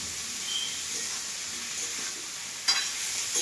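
A mix of vegetables, including drumstick stems, eggplant, potato, greens and tomatoes, frying in a pan for drumstick flower curry: a soft, even sizzle up close with light stirring and one brief sharp clatter near the end.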